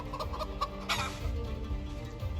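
A rooster in the video game Project Zomboid clucks in short, soft bursts over a steady low background hum, a few quick notes with one fuller call in the middle.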